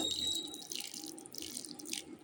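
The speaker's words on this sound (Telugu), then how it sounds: "దీంట్లో నేను కొన్ని వాటర్ యాడ్ చేస్తున్నాను" Water is added to soaked lentils, giving faint drips and splashes from a tap or pour, with short trickling bursts and no talk.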